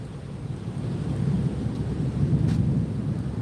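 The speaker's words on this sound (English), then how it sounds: "Oh, it's thundering." Thunder rumbling during Hurricane Helene in Florida, a continuous low roll mixed with steady rain and wind noise, loud and close with no voices.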